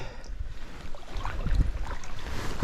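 Kayak paddling down Florida's Juniper Spring Run, with soft close paddle splashes and water movement under rushing wind noise on the microphone.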